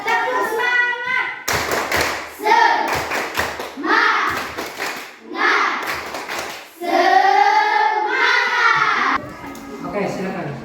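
Schoolchildren in an Indonesian classroom clap a rhythmic 'tepuk semangat' cheer, with bursts of sharp, loud claps interleaved with chanting voices and a teacher's speech.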